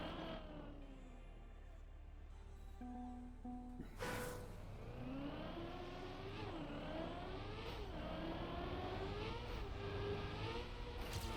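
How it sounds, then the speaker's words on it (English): The stadium car in the Trackmania video game drives with a continuous engine whine that climbs and dips in pitch as it accelerates and shifts, steady and prominent, with a brief whoosh near the start. "After all that snow, the stadium car feels weird to drive."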